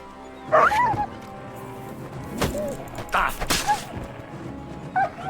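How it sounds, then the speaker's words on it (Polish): Dogs in the video game Kingdom Come Deliverance 2 barking and yelping in short scattered bursts amid thuds and scuffling of combat, with some speech underneath. "Psy."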